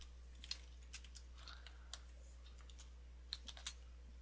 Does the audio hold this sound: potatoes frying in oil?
no